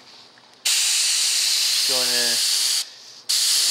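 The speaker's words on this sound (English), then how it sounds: "just do a quick spray to make sure it's coming out of the airbrush real nice" An airbrush test-sprays paint before a Lionel passenger car is painted for a restoration, giving a steady loud hiss in two bursts separated by a short pause. A brief voice speaks partway through.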